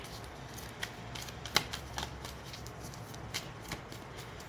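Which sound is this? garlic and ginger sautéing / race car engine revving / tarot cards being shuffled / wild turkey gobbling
tarot cards being shuffled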